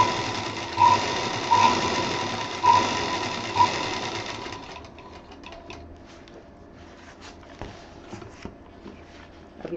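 A sewing machine stitches the side of a fabric three-pocket hanger in a short, steady whirring run, then stops, leaving quiet handling noises and faint clicks.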